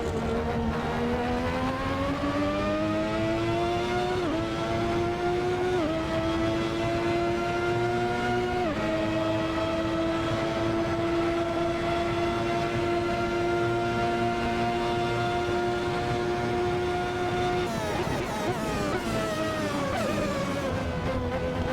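A Ferrari 643 Formula 1 car in a racing sim screams at high revs, its engine note stepping down through several downshifts under braking, then sweeping back up near the end, loud and continuous.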